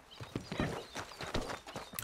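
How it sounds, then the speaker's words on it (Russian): Horse hooves clip-clop in Red Dead Redemption 2, a quick, uneven run of close hoofbeats at walking pace, fairly quiet and with no voices. "Где там моя лошадь? Сейчас мы ее подзовем."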